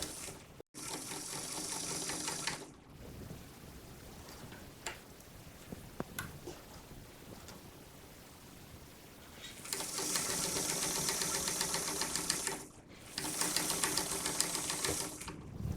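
A sewing machine stitches folded bias tape along the edge of a Chanel-style jacket, whirring in two close, steady runs separated by a quieter stretch of soft handling noise.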